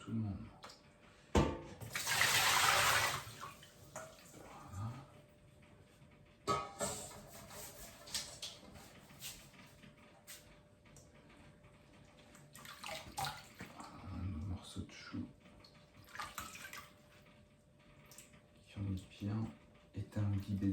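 Salted vegetables for vegan kimchi and their water are emptied into a colander in a home kitchen, giving a brief rushing splash early on, then quieter clattering and dripping, with a person talking at times.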